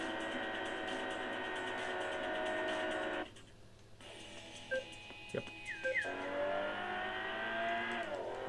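A race car in the Import Tuner Challenge video game revs loudly under steady tones, cuts out abruptly partway, then returns with short mechanical clicks and rising engine pitches.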